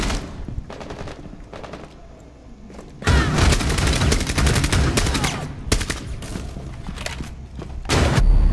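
Gunfire in Rainbow Six Siege, fired through a barricade: after a quieter stretch of scattered shots, dense rapid bursts erupt and continue loud and close, with repeated sharp cracks and booms.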